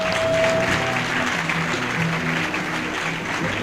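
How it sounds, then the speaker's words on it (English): Audience applause at a professor's 70th-birthday retirement valedictory programme in Ekiti, a steady dense clapping that holds close and loud for the full few seconds, with no talk over it. "shall we give him another big round of applause?"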